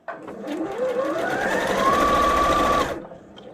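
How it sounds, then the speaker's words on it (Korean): A Janome DM7200 sewing machine set to straight stitch whirs at top speed for about three seconds, a steady mechanical drone that rises in pitch as it spins up, then stops abruptly. "그러면 재봉틀을 돌려봐야겠죠"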